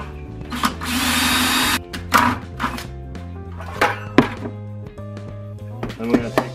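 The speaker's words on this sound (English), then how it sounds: "and then drill a hole." A power drill bores a hole through a plastic bucket near its bottom for a chicken waterer, one sustained high whine lasting about a second, then short bursts and clunks of handling.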